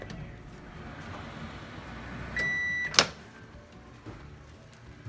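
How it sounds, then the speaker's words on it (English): A microwave oven hums quietly while cooking a keto cake, then a steady electronic beep sounds, followed by a sharp click of the door opening. "Just put it in the microwave for 90 seconds."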